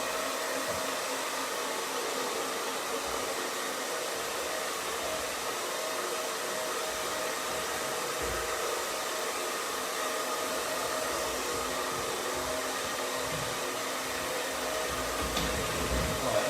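A hair dryer blasts paint dry on a campervan, a steady, close whooshing roar with a constant motor whine that runs unbroken for the whole stretch, with no voices.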